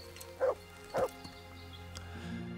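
A dog in Kingdom Come Deliverance barks twice in quick succession, fairly close and moderately loud, over a quiet ambient music bed.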